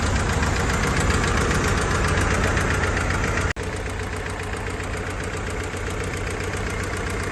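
Engine of a restored Willys Jeep CJ2a with a 12-volt system running steadily close by, a loud even rumble with a rapid mechanical tick, unbroken except for a brief dropout midway.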